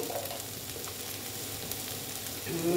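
Ground cumin and coriander powder fry in hot oil for aloo dum, giving a steady, close sizzle with faint stirring underneath, with no talking.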